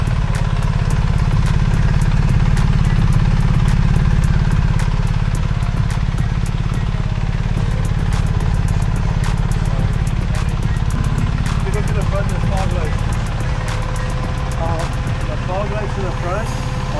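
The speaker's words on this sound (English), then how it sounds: "Now we're going to ride her up." A 2025 BMW R1300GS motorcycle engine runs steadily on a test ride, a constant low rumble throughout with wind and road noise, loud and close.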